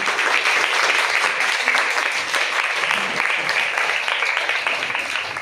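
Steady applause from a classroom of schoolchildren cheering a sixth-grade student after her magnet and compass-needle experiment, dense clapping sustained for several seconds without a break.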